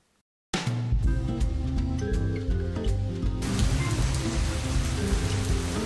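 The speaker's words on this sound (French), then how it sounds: "Il pleut à verse, il pleut à seau." Heavy rain pours down in a dense, steady hiss of drops hitting surfaces, starting abruptly after a brief silence and continuing loud and unbroken, with a faint low rumble underneath.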